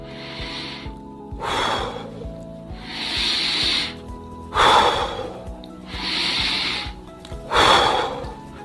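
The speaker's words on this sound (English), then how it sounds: "breathe in through your nose and out through your mouth. Do this a few times." Slow, deliberate breathing, in through the nose and out through the mouth, repeated several times: airy inhales alternate with louder hissing exhales in an even rhythm, close and clear, with no talking.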